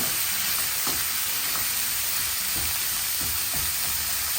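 Meat for pancit is stir-fried in a hot pan, filling the clip with a loud, constant sizzle broken by scraping stir strokes at irregular intervals.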